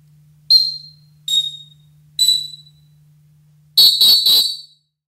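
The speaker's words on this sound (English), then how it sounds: "there is one thing from Canada in the NBA Finals, and that's the Fox 40 whistle." Fox 40 referee whistle giving three short shrill blasts, evenly spaced, then a quick triple trill, piercing and close against near silence.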